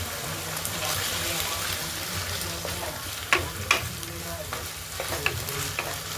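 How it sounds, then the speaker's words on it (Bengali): Catla fish roe frying in oil with onion, ginger and garlic, a steady close sizzle with sharp stirring clatters of a spoon against the pan. "এরপরে মাছের তেল আর মাছের ডিমটা দিয়ে দেবো, দিয়ে ভালো করে পেঁয়াজ আর আদা রসুনের সঙ্গে মিশিয়ে নিতে হবে।"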